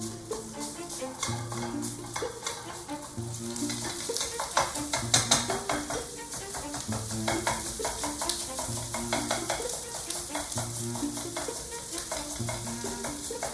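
One pound of Italian sausage fries with sage in a pan, giving a steady sizzle broken by frequent clicks and scrapes of stirring, all under continuous background music.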